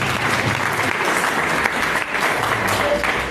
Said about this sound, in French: Acclame pour Jésus-Christ